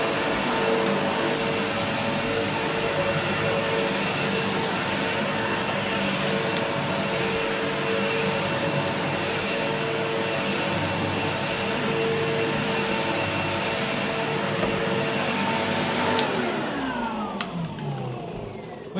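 A Sebo X4 Excel Eco upright vacuum cleaner runs steadily on a 30-year-old carpet with a continuous loud motor whine and airflow roar. Near the end a brief pitch shift sounds as the brush height changes.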